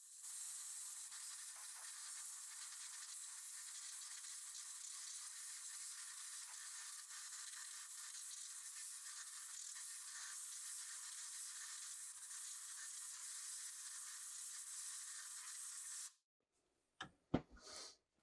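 Compressed air from an air compressor blasts onto the lens of a diode laser, a steady, close hiss that runs unbroken for about sixteen seconds, then cuts off, followed by a few short bursts and clicks.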